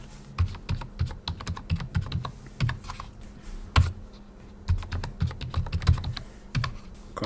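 Fast typing on a computer keyboard, close-up with a steady run of clicking keystrokes and occasional heavier key presses, no talking.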